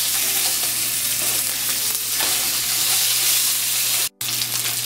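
Hilsa fish head frying in hot mustard oil, a steady dense sizzle with faint stirring scrapes running throughout, loud and close, with a brief cut near the end.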